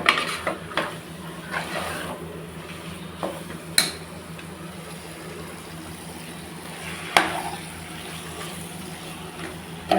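Mutton biryani masala with cooked mutton is stirred in a cooking pot, giving a soft continuous scraping and gentle sizzle with a few sharp clinks of a utensil against the pot, close and fairly quiet.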